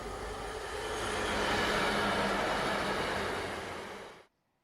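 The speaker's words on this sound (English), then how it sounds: "A Freightliner 66 heads are working from Wilton to Leeds on the 15th of June" A Freightliner Class 66 diesel freight train, working from Wilton to Leeds on the East Coast Main Line, passes with a broad, steady rumble and roar that swells and then cuts off.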